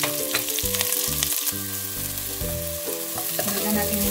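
Sliced onion hits browned garlic in a hot pan, giving a continuous crackling sizzle with stirring beneath steady background music and no talking.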